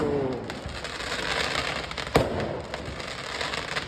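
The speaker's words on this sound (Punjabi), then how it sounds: "ਕਿਸੇ ਦਾ ਵਿਆਹ ਹੋ ਰਿਹਾ ਆਪਾਂ ਵੇਖੀਏ ਪਟਾਕੇ ਵੱਜਣ ਦੇ" Firecrackers crackle and pop continuously in the distance, with one sharper burst standing out midway.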